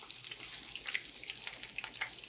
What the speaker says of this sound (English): They've been frying for a few minutes, and now I'm going to flip them.